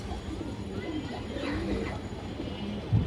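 An old-breed black-neck line pigeon coos faintly in a low, rolling murmur against steady background noise.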